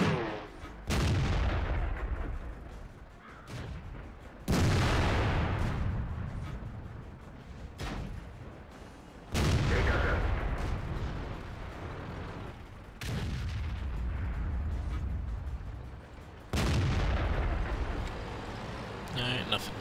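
Tank cannon shots from the World of Tanks game, a T-62A in play, booming out as four loud, spaced blasts with long rumbling decays, while someone talks over the action.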